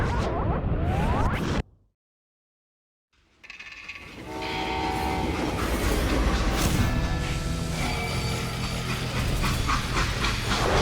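Freight train in the video game Call of Juarez Gunslinger, a rumbling, clattering run of rail cars with steam and whistle tones, loud and continuous after a brief silent gap.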